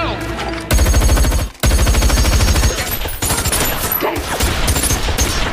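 Gunfire in a Jason Statham action film heist scene: loud, close bursts of rapid automatic fire with sharp individual shots, broken by brief gaps, dense and continuous.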